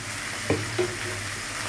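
Drumstick flowers fry in hot oil in a wok, a brief close crackling sizzle with a couple of soft stirring knocks, and no voices.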